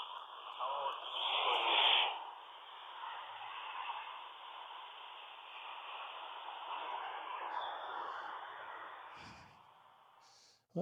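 A handheld Open GD77 ham radio receives an amateur satellite pass as hissing band-limited static with a faint, muffled voice-like signal drifting through it for about ten seconds. It ends in a soft click.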